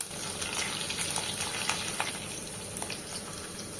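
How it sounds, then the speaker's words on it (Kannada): Cloves, cinnamon, cumin and pepper frying in a pan, a steady close hiss of sizzling with faint crackles throughout. "ಇದಿಷ್ಟನ್ನ ಒಂದು 2 ನಿಮಿಷ ಫ್ರೈ ಮಾಡ್ಕೋಬೇಕು."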